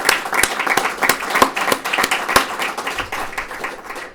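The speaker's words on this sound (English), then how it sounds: "So the real round of applause I want you to give is yourselves" Sparse, loud individual claps from a modest audience at a corporate veterans program event, sharp hand strikes at an uneven rhythm over a thin bed of softer clapping.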